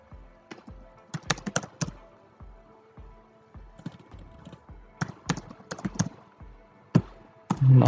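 Typing on a computer keyboard while entering text into web form options, with irregular bursts of sharp clacking keystrokes close by and a louder clattering thump at the end.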